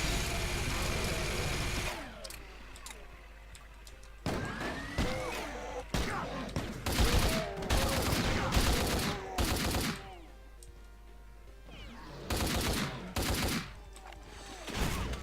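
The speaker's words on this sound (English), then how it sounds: "It's a Gatling gun." Rapid bursts of Gatling gun fire in the Doom Reelism video game, loud and dense, coming in several separate volleys broken by short pauses over roughly fifteen seconds, with other game sounds in between and no speech.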